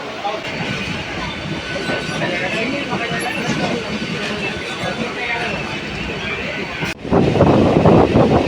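Steady rumble and rattle of a moving, nearly empty passenger train carriage with clacking wheels, voices murmuring over it, growing louder near the end.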